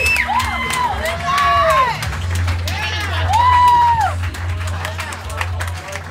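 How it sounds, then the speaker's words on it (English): Studio audience at a roast battle show claps, cheers and whoops for a contestant, a loud sustained crowd roar with shouting voices over the top. "Clap it up for Lindsey Jennings"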